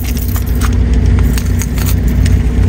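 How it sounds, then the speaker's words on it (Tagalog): Car keys jangle in short metallic bursts, nearly buried under loud, steady outdoor rumble and wind-like noise. "Yung susi ng sasakyan."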